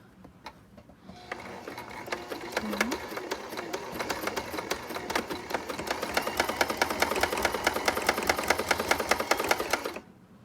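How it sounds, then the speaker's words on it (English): A sewing machine stitches face mask fabric along the edge of the presser foot, running in a steady, fast, close mechanical rattle that starts after a second and continues for about nine seconds before stopping. "we're going to sew on the edge of the presser foot"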